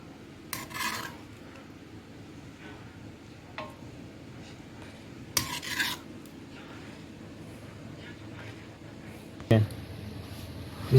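Chicken karahi is scooped out of a pan with metal utensils, giving a few sharp scrapes and clinks spaced apart over a quiet background.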